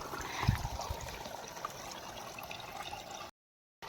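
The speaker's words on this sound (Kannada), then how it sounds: "ಮತ್ತೆ ಹನಿ ಹನಿ ಮಳೆ ಬರ್ಲಾತೈತಿ" Light rain drips and trickles in a faint, continuous patter, with a brief soft knock early on and a short silence near the end.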